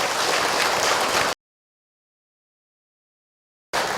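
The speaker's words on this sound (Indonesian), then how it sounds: "Tepuk tangan buat bunda yang bertanya." A burst of applause for a mother who asked a question at a religious talk, dense clapping for just over a second before cutting to dead silence, then starting again at the very end.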